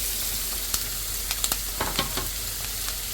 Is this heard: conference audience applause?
no